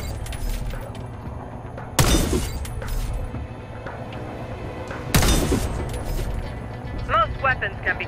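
Gunfire in the shooter game Warface strikes and shatters targets, with two sharp, loud crashing bursts a few seconds apart over a steady mechanical background, followed by lighter rattling shots.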